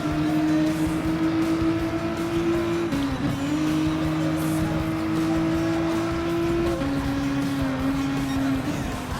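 A Nissan GT-R Gr.4 race car in Gran Turismo Sport drives at steady high revs, its engine tone holding a sustained whine with two brief dips at gear changes, loud and close.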